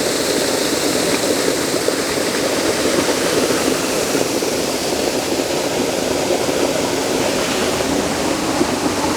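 A waterfall and rushing stream in the Brecon Beacons' waterfall country pour in a steady, dense roar, loud and close, unbroken for the whole stretch with no voices.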